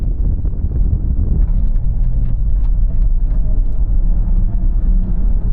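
BMW XM plug-in hybrid accelerating from 0 to 60 in electric-only mode, a loud steady low rumble of tyre and wind noise inside the cabin, with no engine note and no talking.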